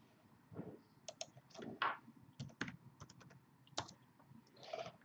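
Keys on a computer keyboard being typed in short irregular bursts, close and fairly quiet in a still room.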